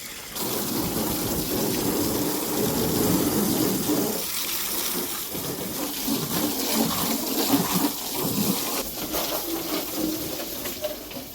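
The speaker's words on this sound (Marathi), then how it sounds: "आपल्या गाडीवर पहिलं पाणी मारून घेतो" Steady, loud hissing spray of water washing down a car, continuous and close, with no voices.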